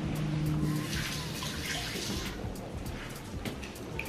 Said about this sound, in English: I'm gonna take 3 pieces of raspberry. I'm gonna rinse it off